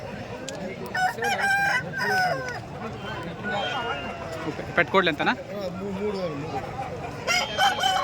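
At a country chicken market in Kundarapalli, roosters crow several times nearby and in the background while people talk over them, with occasional clucking.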